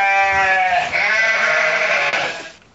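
A sheep bleats loudly and close by in one long wavering call that fades out at the end, heard alone with no talking.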